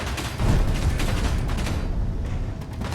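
Spaceship weapons firing blind at pirates in Space Engineers, a loud rolling barrage of rapid heavy shots that swells early, then thins into scattered bursts near the end.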